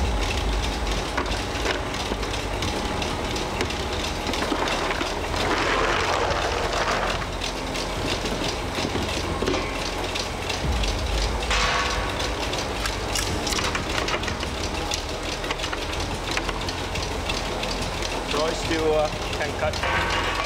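A size B cashew cutting machine works through cashew nuts with a steady mechanical clatter and rumble, repeated knocks and crunches running throughout under a voice talking.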